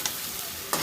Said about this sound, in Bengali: এই তো ঝিঙে দিয়ে কষিয়ে নিচ্ছি